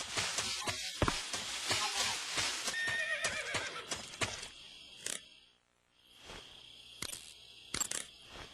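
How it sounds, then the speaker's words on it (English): A horse in a video game whinnies loudly several times over steady clip-clopping hooves, with a faint insect-like buzz in the background and a brief quiet pause midway. "You just heard a horse?"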